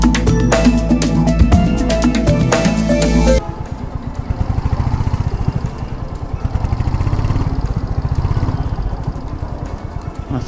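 A Royal Enfield motorcycle rides through monsoon rain in Bangladesh, its loud engine thumping steadily up close with a rhythmic beat and wind rush after a louder opening stretch.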